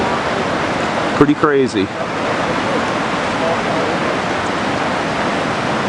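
Floodwater from a swollen river pours in during the Great Flood of 2013, a loud, constant rushing roar that fills the whole stretch, with someone briefly speaking over it near the start.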